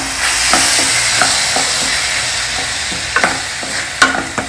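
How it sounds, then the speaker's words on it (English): Turmeric powder, salt and chopped tomatoes frying lightly in a pan, a loud constant sizzle up close with scattered stirring clicks and scrapes from a utensil toward the end, no talking. "Add some turmeric powder, salt, fry it lightly."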